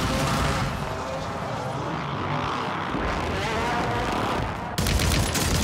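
Video game gunfire from Call of Duty on Rebirth Island, a dense, continuous spray of rapid shots that runs loud and unbroken throughout, with a sharp jump in intensity near the end.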